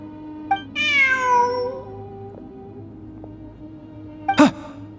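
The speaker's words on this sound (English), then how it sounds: "Look! A cat!" A cat in the Genshin Impact video game lets out a clear, drawn-out meow over a quiet hum of background ambience, with a few soft clicks before and a short sharp sound near the end.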